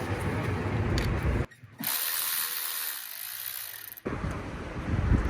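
A ratchet tightens bolts on a Ford Ranger throttle body with close, brisk clicking strokes, cut off by a short pause and a muffled stretch before the clicking resumes.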